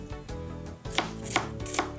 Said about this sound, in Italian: Per prima cosa occorre affettare la cipolla piuttosto finemente